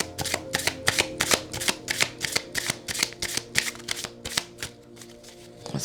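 A deck of tarot cards being shuffled by hand, close and clear, with rapid repeated riffling bursts in a steady rhythm under faint background music, with no one speaking.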